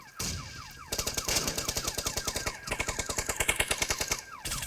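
Rapid automatic gunfire in PUBG shooting down a vending machine, loud close bursts of evenly spaced shots with a brief pause before a second long string, no talk.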